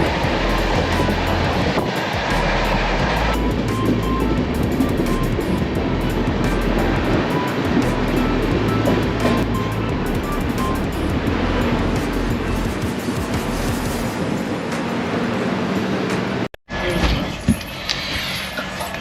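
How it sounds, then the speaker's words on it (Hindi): A Bangalore-bound Humsafar Express speeds through Amla Junction, a loud steady rumbling roar of wheels and rushing air filling the scene for most of the time before dropping off abruptly near the end. "AMPH में अमला जंक्शन को उड़ाते हुए निकली हमारी बेंगलोर क्लोन हमसफर एक्सप्रेस।"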